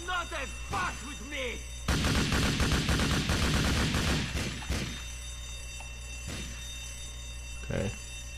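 Gunfire from Grand Theft Auto IV: a few scattered shots, then a dense rapid burst of several seconds, followed by isolated single shots, with a voice talking between them.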